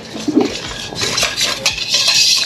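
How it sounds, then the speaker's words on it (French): A whisk clinks and scrapes against a bowl while boiling cream and chocolate are mixed, quick metallic taps and a steady swirling rasp, with no talk. "Je mélange au fouet et le chocolat il va fondre."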